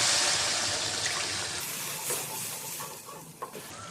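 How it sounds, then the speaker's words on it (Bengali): Water poured onto a sizzling mustard spice paste in a pan for a fish curry brings a loud hissing rush that gradually settles into a softer bubbling sizzle, close, with no talk. "মশলা কষানো হয়ে গেছে। এবার এতে দিয়ে দিচ্ছি পরিমাণ মতন জল।"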